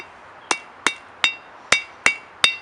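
Six sharp, ringing hammer blows strike a hot steel leaf at the forge, spaced at an irregular beat of roughly every half second, each with a brief metallic ring and no talking.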